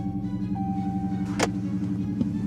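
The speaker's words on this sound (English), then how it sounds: "Let's turn the car on." A Dodge Charger engine runs with a steady low rumble close by, with a brief sharp transient midway.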